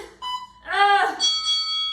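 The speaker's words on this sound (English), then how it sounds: "You are staying right here, all the way, through the beeps and the ding." Short electronic tones ring out in steady pitches, ending in a bright sustained chime, with a voice briefly sounding in the middle.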